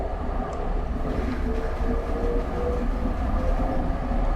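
A SEPTA GE Silverliner IV commuter train in Train Simulator 2019 rumbles and rattles steadily with low clattering and tin-can-like metallic noise, a continuous moderate drone without speech.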